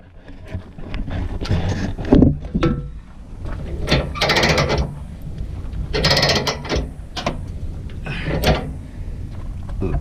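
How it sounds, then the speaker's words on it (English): Load straps are ratcheted tight on a hotshot trailer in Hotshot Trucking, a run of loud, close mechanical clicks and ratchet bursts in irregular clusters over about ten seconds, with no talk. "let's walk around and give everything a final tightening."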